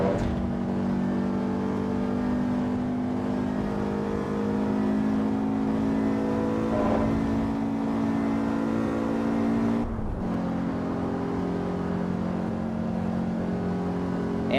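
A car engine in the Assetto Corsa Evo racing sim strains uphill with a steady, loud drone and a sustained tone. It briefly dips near the end before holding again.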